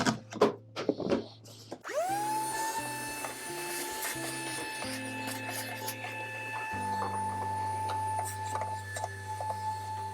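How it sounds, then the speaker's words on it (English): A shop vac sucks sawdust off a RIDGID 13-inch thickness planer. A few knocks come first, then the vacuum starts and runs as a steady, loud whooshing drone. Its pitch shifts slightly as the nozzle moves. "grab the shop vac and clean up all the sawdust to get it ready for the blades"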